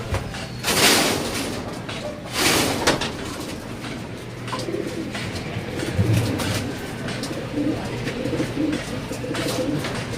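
Pigeons coo softly in a loft, a low, steady murmur of calls running throughout, with a few louder broadband rustles or knocks near the start.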